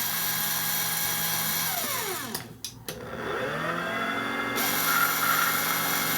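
A LAGOM Mini coffee grinder running alone with a steady motor whine, its pitch dipping and briefly cutting out midway before spinning back up to a constant drone.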